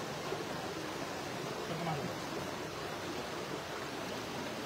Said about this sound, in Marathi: हे पाण्याचा प्रवाह दिसतोय.